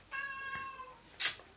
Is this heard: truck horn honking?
no